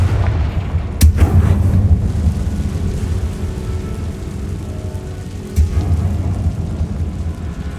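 Confringo fire spell cast in Hogwarts Legacy, two sharp explosive cracks a few seconds apart over a low rumbling, rain-like ambient bed, loud and close with no talk.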